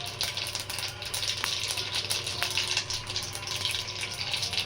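Mustard seeds sizzling and crackling in hot oil for a tomato pickle, a steady close frying hiss with small pops throughout.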